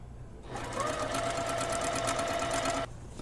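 Sewing machine stitching a puffy shoulder sleeve, one steady fast whirring run of about two and a half seconds starting and stopping abruptly, close and clear with no voice.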